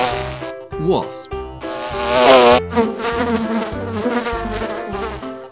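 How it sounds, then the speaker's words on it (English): A fly's buzzing from an insect sound toy comes through as steady, fairly loud droning tones that shift pitch, with short gaps between phrases. "Fly."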